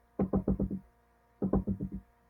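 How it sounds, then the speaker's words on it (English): Two quick bursts of hollow knocks, five raps each, close and clear against quiet, like a woodpecker drumming on wood in a summer forest. "It's a knocking sound. That might be the woodpecker."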